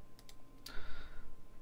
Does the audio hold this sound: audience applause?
no